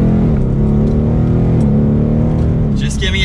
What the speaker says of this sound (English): just giving it a mild acceleration, and this is quick